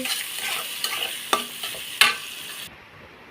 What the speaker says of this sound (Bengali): পেঁয়াজ মরিচ দিয়ে দিয়েছি